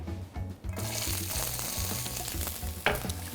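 Onions frying in oil for spaghetti with tuna give a bright, continuous sizzle with a few stirring scrapes and clinks, close and steady throughout.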